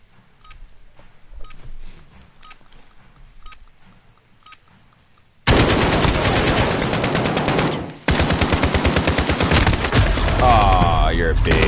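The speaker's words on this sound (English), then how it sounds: "Gunfire" Rapid automatic gunfire in the Modern Warfare video game, loud and close, bursting in suddenly after a quiet stretch and continuing in dense rattling volleys with a short break before resuming.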